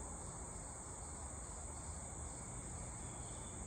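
Crickets chirp outdoors in nature, a continuous dense high-pitched trill holding steady and even with no voices.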